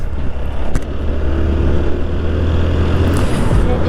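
A TVS Apache RTR 160 motorcycle ridden fast on the road, its engine giving a steady, loud drone with rushing wind noise throughout, and no talk.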